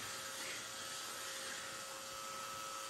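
A mini craft vacuum runs continuously with a steady, broadband whirring hiss and a faint high motor whine, fairly quiet and even throughout with no talking.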